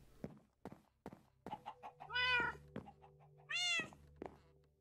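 Cat meows in Minecraft, two long wavering cries among sharp knocking thuds and shorter chirps, close and clear with no talk.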